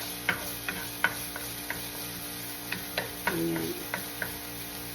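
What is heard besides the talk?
garlic browning in pan for salt and pepper shrimp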